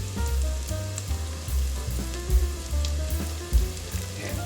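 Sausage squeezed from a one-pound tube fries in a pan with a steady, close sizzle. Soft bumps and stirring knocks sound through the hiss, and no voices are heard.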